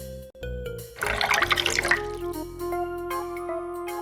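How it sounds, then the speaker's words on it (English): Water thrown in the point-and-click adventure game Lucy Dreaming, heard as a single short liquid splash over steady game music, with a sustained tonal drone lingering after it. "we do this, we chuck the water."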